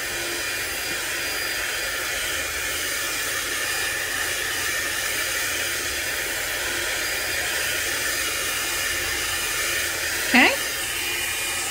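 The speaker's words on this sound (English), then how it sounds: "I give it a little run with the blow dryer. This is on the heat setting." A blow dryer on its heat setting runs steadily and close by, drying a wet mixed media craft tag with a constant broadband whoosh; a brief squeak-like sound sweeps upward near the end, and a voice briefly speaks.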